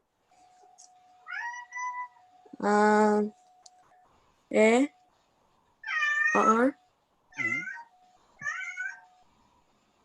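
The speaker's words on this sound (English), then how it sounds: "Sorry about my cat." A house cat meows several times in distinct, separated calls, fairly close and clear, with a faint steady hum underneath and a brief voice at one point.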